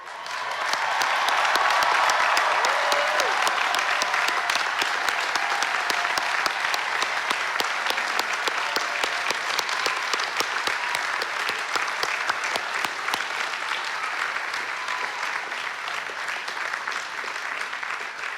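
Sustained applause fills a large hall at a Brown University graduation ceremony as graduating students' families stand, dense clapping from a big crowd, steady and slowly easing over the whole span.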